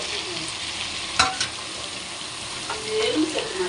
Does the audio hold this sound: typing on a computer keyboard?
no